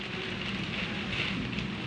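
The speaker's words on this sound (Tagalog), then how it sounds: "Hindi kalakasan yung ulan." Light rain patters steadily on a surface, a soft continuous hiss of drops with gusty wind, no talk, even and unbroken throughout.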